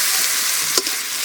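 Ginger garlic paste hits a hot pan and fries with a loud, dense sizzle, and a single scrape of a spoon stands out briefly near the middle.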